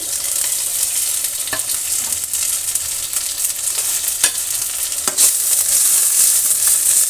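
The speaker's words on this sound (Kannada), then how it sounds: "ಈಗ ಕರಿಬೇವಿನ ಸೊಪ್ಪನ್ನು ನಾವು ಫ್ರೈ ಮಾಡ್ಕೊಂಬಿಡೋಣ ಚೆನ್ನಾಗಿ" Curry leaves crackling in a spoonful of hot oil in a pan for a chutney, a loud close hiss broken by occasional sharp spatters and stirring scrapes, with a sudden burst of louder sizzle near the end.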